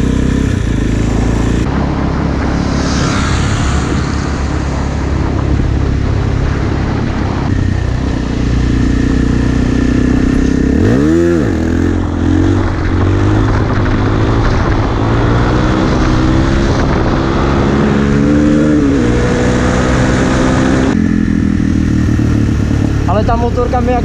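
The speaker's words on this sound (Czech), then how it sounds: "Ale dělá to strašný kravál. Dělá to kurva velký kravál." A loud motorcycle ridden through town, engine roaring steadily throughout with rising and falling revs and wind rush, a rider talking over it.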